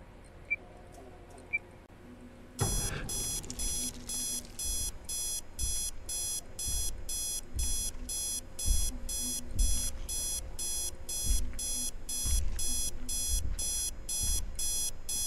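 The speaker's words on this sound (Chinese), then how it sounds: "我想说闹钟那么大声" A loud, rapid electronic alarm clock in a horror video game set in a quarantined inn starts abruptly after a quiet lead-in and rings on in steady repeating bursts, with soft game footsteps and ambience underneath.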